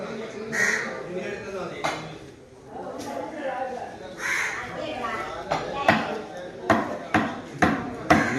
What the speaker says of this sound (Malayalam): അവിടെ ഒരു ചേട്ടൻ തന്നെ മീൻ കട്ട് ചെയ്തുകൊണ്ടിരിക്കുകയാണ്